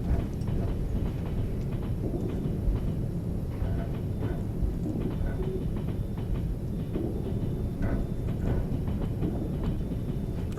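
In the Trans Siberian Railway Simulator game, a locomotive hauls wagons along the track with a dense, steady rumble and a faint rhythmic clatter of wheels that runs on throughout.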